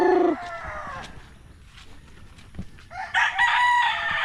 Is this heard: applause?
no